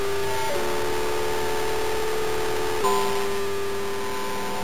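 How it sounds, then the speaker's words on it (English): A steady electronic tone rings through heavy bitcrushed distortion, buzzy and grainy with a faint static hiss, changing character slightly partway through. "we have a nice bit crush digital distortion sound"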